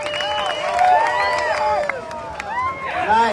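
A crowd at a surfing contest, the Hurley U.S. Open of Surfing, cheers and claps for surfer Michel Bourez, a steady roar of voices and whoops with talk mixed in throughout.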